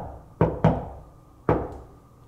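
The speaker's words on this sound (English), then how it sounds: "Can you make this knock sound where Sean's at for us?" Sharp knocks strike a door inside a Masonic temple, first two quick raps and then a single rap after a short pause. All are loud and close, with a faint room echo and no talking.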